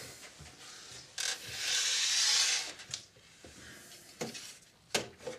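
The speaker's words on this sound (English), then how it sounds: "let's put our front panel back on." Refitting the front panel on a Panasonic NV-G7 video recorder: close plastic rubbing and scraping with a longer sliding sweep early on, then several sharp clicks and knocks as the panel seats, with no speech.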